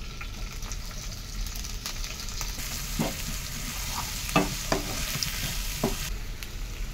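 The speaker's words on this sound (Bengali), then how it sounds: "এবার দিচ্ছি কুচিয়ে রাখা পেঁয়াজগুলো। এবার একটু চেঁচে রাখা পেঁয়াজটা দিয়ে দিচ্ছি।" Chopped onions fry in a pan, giving a steady loud sizzle throughout with a few sharper scrapes and spatters near the end.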